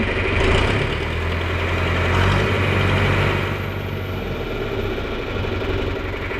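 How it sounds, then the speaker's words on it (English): A John Deere 4020 tractor engine runs close by, a steady loud diesel idle with a deep throbbing rumble and a slight swell in revs partway through. "4020, when you go to start it, you just have to rev it up a little bit like that"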